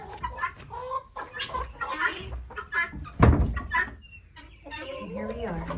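Chickens clucking and murmuring inside a hen house at night, close and irregular, with a person talking softly among the birds.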